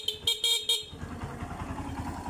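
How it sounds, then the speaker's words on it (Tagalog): Motorcycle horn with a capacitor fitted, sounding loud in three or four short close honks, followed by the engine idling steadily. "Tapos yung busina, malakas na rin."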